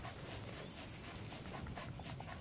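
Panting and soft whimpers from a dog in Metal Gear Solid 5: The Phantom Pain, continuous breathy huffing with small whines against busy in-game ambience.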